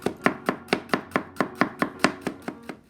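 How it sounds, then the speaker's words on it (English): A knife chops bitter melon into small pieces on a board, about a dozen crisp, evenly spaced cuts in a steady rhythm, close and clear with no talking. "I use the spoon to remove the inner portion of the bittermelon, and then I cut it in small size."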